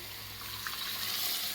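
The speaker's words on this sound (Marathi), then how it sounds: "त्यानंतर थोडंसं पाणी घालणार आहे मी यामध्ये।" Water poured into a cooking pan while making a Vidarbha-style dal and vegetable dish, a soft steady splash and trickle lasting about a second and a half, close and alone.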